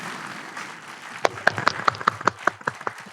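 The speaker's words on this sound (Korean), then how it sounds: "박수 한번 청해 드리도록 하겠습니다" A small group breaks into clapping partway through, irregular claps picking up after a quiet start, offered in thanks to missionaries at a Catholic diocese mission day.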